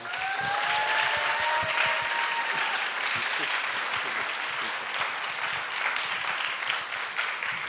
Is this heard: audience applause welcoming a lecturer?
yes